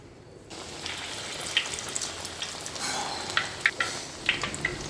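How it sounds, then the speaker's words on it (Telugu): Corn vadas, flattened dough patties with a hole in the middle, sizzle steadily in hot oil after a quiet start, with sharper pops and crackles near the end. "చిన్న హోల్ చేసి ఆయిల్లో వేసి డీప్ ఫ్రై చేయడమే"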